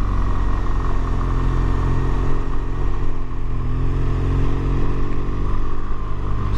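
A BMW R1200GS Rallye motorcycle rumbles along in first gear on the steep Wrynose and Hardknott passes, a steady close engine drone with mild wind noise and no clear revving.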